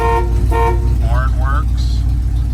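A 1978 Jeep J20 horn honks twice in short bursts, close and loud over a steady engine idle, followed by fainter higher tones.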